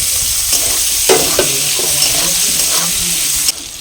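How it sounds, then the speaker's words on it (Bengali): Chopped tomato with turmeric and a little salt frying and being stirred in a pan, a loud continuous sizzle with scraping spoon strokes, dropping abruptly quieter near the end. "এবার টমেটোটা ভেজে নেব"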